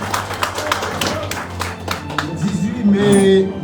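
Audience clapping and cheering at a Haitian Flag Day gathering, dense applause running throughout with a rising crowd swell and voices calling out toward the end.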